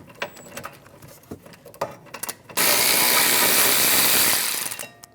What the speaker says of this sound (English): Using a 14mm socket, remove the 2 caliper bracket bolts.